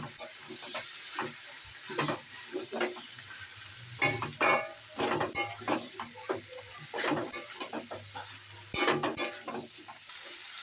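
Young jackfruit being stirred in a hot pan, with a constant oily sizzle under repeated close scrapes and clanks of a spatula against the metal.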